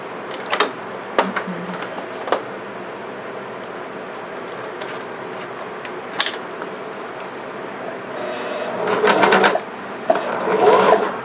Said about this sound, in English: Start a little bit of sewing.